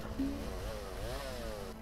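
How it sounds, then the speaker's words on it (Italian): Chainsaw in the video game Lumberjack's Dynasty: a buzzing two-stroke engine drone that rises and falls slightly in pitch as it revs, heard steadily and fairly quietly throughout. "Prendiamo la motosega."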